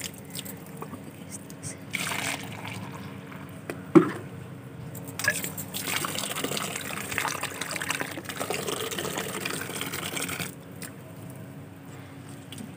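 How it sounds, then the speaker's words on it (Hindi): Water being poured and mixed into a thick fungicide solution for adenium plants, a steady close liquid gush and trickle with small splashes running for most of the clip, then easing off near the end. "इसमें थोड़ा सा और पानी मिला लेंगे"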